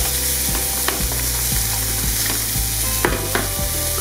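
Onions frying in a pan for a pork and fruit curry, a loud steady sizzle with regular scraping stirs of a utensil every half second or so, close and uninterrupted, no voices.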